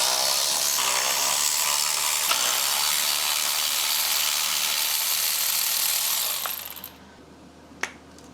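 A socket ratchet clicks rapidly and continuously while removing spark plugs from an Opel Astra engine, a close buzzing whir that stops abruptly near the end, followed by a couple of faint knocks.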